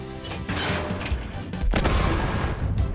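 A loud, booming blast from the largest artillery gun in a World War I video game, followed by a second thunderous shot, with rumbling low-end reverberation filling the short burst.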